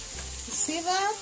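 Small omena fish shallow-fry in a pan with a brief, bright hiss of oil, and a short rising squeak rings over it near the end.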